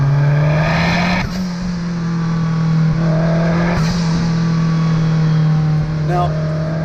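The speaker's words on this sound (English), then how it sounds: "Those intake noises and exhaust noises are obviously not stock, but they're very, very welcome." An engine-swapped Toyota MR2 hums with a steady, loud engine drone and non-stock intake and exhaust noise, holding a constant cruising tone with a few brief shifts in pitch and someone talking over it.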